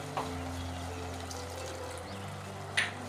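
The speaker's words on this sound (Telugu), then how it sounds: "ఇప్పుడు తగినంత వాటర్ వేసుకోవాలి." Water poured into a Rayalaseema-style stuffed brinjal curry in the pan, a faint, steady trickle under low kitchen hum, with a couple of brief clinks.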